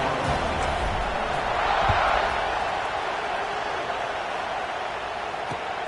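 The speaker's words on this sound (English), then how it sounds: "this crowd is buzzing after that last score" A football stadium crowd at a Gators game keeps up a loud, steady roar and buzz after a score, a dense wash of voices that swells slightly near the start and then holds.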